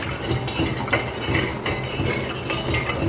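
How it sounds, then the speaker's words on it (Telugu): A spoon stirs mango jelly mixture in a pot on the stove, scraping and clinking against the metal in a steady rhythm, close and alone. "స్పూన్ తోటి కలుపుతూ ఉండండి."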